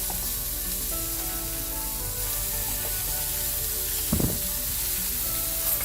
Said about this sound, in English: I'm going to flip the patties.